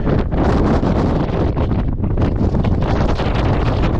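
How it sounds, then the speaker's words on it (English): Strong wind roars across the rocky summit of Mount Dickinson in Rocky Mountain National Park, a loud, continuous buffeting that batters the microphone throughout with no speech. "the wind is picking up. It's almost blowing me off this rock."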